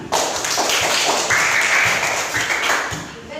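Students in a classroom clap their hands together in a short burst of close, fairly loud applause that carries through the clip and tapers off near the end.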